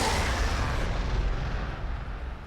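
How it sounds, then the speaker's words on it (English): Frag grenade blasts in the Warhammer 40,000: Sanctus Reach strategy game, heard as a deep, rumbling explosion that starts loud and slowly fades away. "let's throw some frag there"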